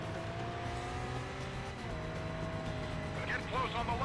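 Sports car engine roaring steadily during a car chase in the Stuntman video game, a sustained revving drone with gear shifts and brief tire squeals toward the end, and no voice over it.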